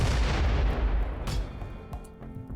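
Mortar fire in a video game: heavy booming artillery bursts, loud and dense at first with deep rumbling low end, then thinning into scattered distant thuds and pops.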